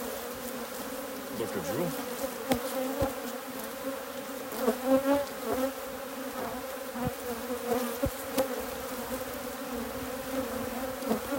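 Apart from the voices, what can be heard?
honeybees buzzing around hive frame during royal jelly production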